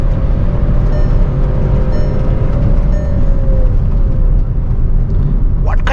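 A brand new Skoda Virtus GT Line floored from inside the cabin, its engine droning loud and steady with a rising whine as it pulls hard, broad road and wind noise filling the background without a break.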